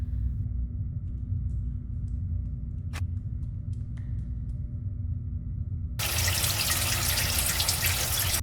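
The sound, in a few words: water running from a tap in video game Still Life 2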